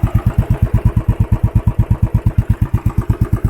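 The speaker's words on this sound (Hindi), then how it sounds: "तो ये इसका एग्जॉस्ट है। तो ये फ्री फ्लो वाला नहीं है, इसमें है फिल्टर।" A Royal Enfield Bullet 500 single-cylinder motorcycle idles through a filtered, non-free-flow exhaust, giving a loud, close, steady rapid thumping beat with no talking.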